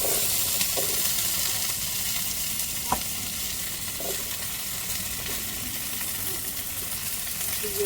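Vegetables sautéing in hot oil for a tamarind curry give a steady, moderate sizzle with a few soft clinks of stirring, heard alone.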